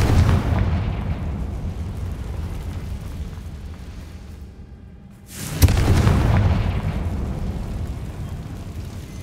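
In the Hogwarts Legacy video game, a Confringo spell detonates with a sudden booming blast that rumbles on loudly, following a quieter stretch of game ambience.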